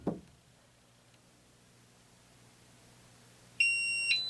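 In a quiet laundry room, a Simple Sence WiFi leak detector sets off its alarm: after near silence, a sudden loud, piercing electronic beep begins and holds steady to the end.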